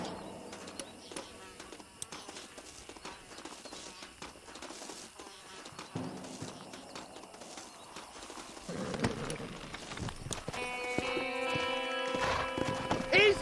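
Horse hooves clip-clopping in the Western video game Red Dead Redemption, a steady rhythmic trot under game ambience and music, growing busier toward the end, with no talk.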